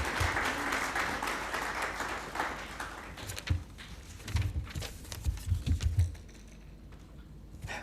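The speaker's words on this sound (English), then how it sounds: "Let's give him a big round of applause, ladies and gentlemen" An audience at a pension session at Victoria Falls applauds with dense, steady clapping that thins into scattered claps and a few louder handling thumps before it fades out.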